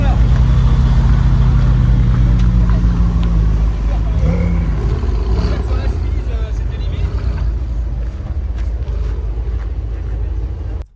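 A Porsche 996 Carrera 2 cabriolet with a 3.4-litre engine drives in a rally, its loud, steady low engine and road drone heard from inside the car along with wind buffeting, easing slightly toward the end.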